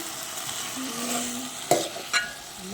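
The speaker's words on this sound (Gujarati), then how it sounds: "આ રીતે આપણે એને હલવી નાખી જે રાઈ ને મરચાં ને બધું પડ્યું છે" Eggplant curry with mustard seeds and chillies is stirred in hot oil, a low sizzle underneath with two sharp scrapes of a spoon against the pan, close and alone.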